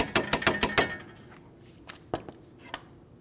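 A torque wrench on a front control arm nut of a 2012-2016 Honda CR-V clicks rapidly five or six times up close, followed by a few scattered metallic taps and clinks.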